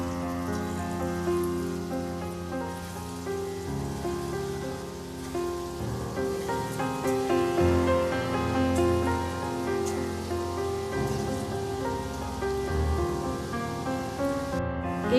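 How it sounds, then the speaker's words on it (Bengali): Lentil fritters (dal bora) deep-frying in hot oil, a dense, steady hiss and crackle like rain that runs without a break for the whole stretch, close and even in level, with no talking. "একইভাবে দ্বিতীয় ব্যাচের বড়াও আমি তেলে দিয়ে দিচ্ছি"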